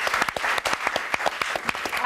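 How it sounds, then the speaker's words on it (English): An audience claps together in a dense burst of close, lively applause with sharp individual hand slaps, lasting about two seconds. "Give me a round of applause"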